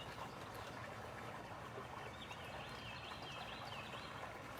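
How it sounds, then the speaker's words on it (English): Thin high bird chirps repeat faintly over steady outdoor noise, distant and continuous. "Man, them birds are chirping today."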